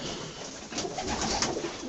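Cooing male pigeons in a loft, a short burst of continuous low throaty calls close by against a dense bird-filled background.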